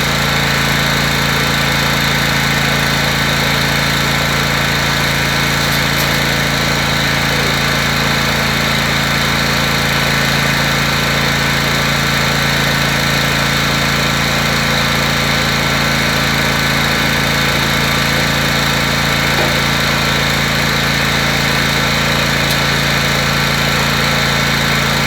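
A leaf bagger machine made by Accelerator runs steadily, a continuous engine drone with a lawn-mower-like hum holding an even level throughout, with no one talking.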